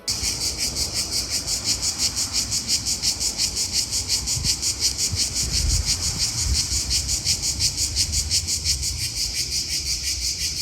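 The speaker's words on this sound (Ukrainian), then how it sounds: "це самці цикад видають такий звук, щоб якось е, привернути увагу до себе самок" Loud, dense chorus of male cicadas calling in Croatia, pulsing in a fast steady rhythm, a shrill high buzz that never lets up, with faint low rumbles beneath.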